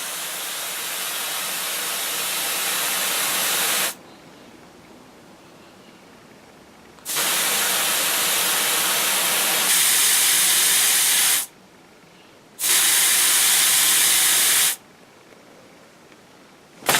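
A deodorant spray can hisses in long, loud bursts, several seconds each, separated by brief gaps of quieter background.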